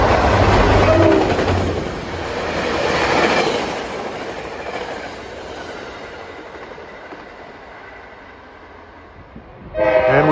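A New Jersey Transit EMD F40PH-2CAT diesel locomotive hauling a passenger train rumbles past Mountain Station, loud at first with a horn-like tone, then fading as it moves away, with a brief sharp noise at the end.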